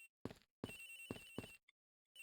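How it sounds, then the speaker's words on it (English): A telephone in Ace Attorney Investigations rings in short repeated bursts with brief gaps of silence between them. "Sounds like the phone is up in the flight attendant's room."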